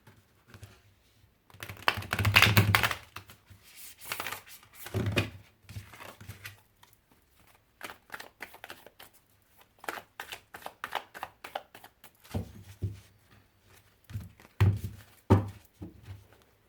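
A deck of tarot cards is shuffled by hand, with bursts of riffling and soft flicking clicks separated by brief pauses, close and fairly quiet.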